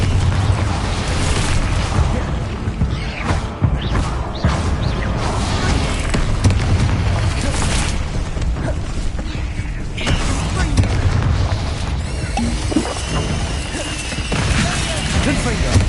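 Confringo and Bombarda spell explosions in Hogwarts Legacy, a loud continuous barrage of booms, bursts and crashing debris with dense low rumble throughout, mixed with voice.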